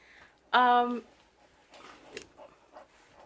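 A dog gives a single short, high whining yelp, loud and close, followed by quieter indistinct rustling and faint voices.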